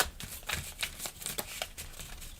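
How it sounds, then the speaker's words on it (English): Heart-shaped tarot cards are shuffled close by in soft, irregular riffling bursts, quiet and papery, with a few sharper flicks over about two seconds. "These are really hard to shuffle."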